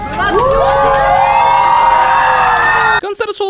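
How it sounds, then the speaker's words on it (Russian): A large concert crowd cheers and shouts loudly in a sustained roar, which then breaks off into a few scattered short shouts. "Мама, эти аплодисменты тебе!"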